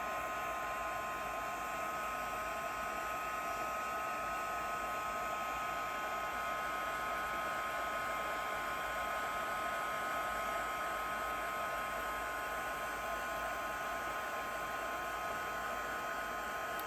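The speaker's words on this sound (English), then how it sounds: "keep my heat tool moving so that I don't burn it and I don't curl it" Heat embossing tool blowing hot air over embossing powder on vellum, a steady, close, continuous whoosh with a faint whine that holds evenly for the whole stretch, with no talking.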